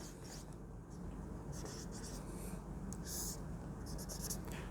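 Chalk or marker writing on a board during a classroom lesson, several short bursts of scratchy strokes over a steady background hum, close and moderately loud.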